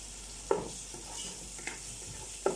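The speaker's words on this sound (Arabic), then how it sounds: "ابدا احطهم كده مع البصل والثوم اهو." Cubed meat stir-fried in a pan with onion, garlic and tomato paste, a low steady sizzle broken by a few sharp clinks of a stirring spoon against the pan.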